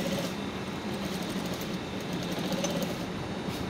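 A sewing machine runs steadily as it stitches a welt pocket on a bomber jacket, a continuous close mechanical whir with a fast even rhythm and no talk.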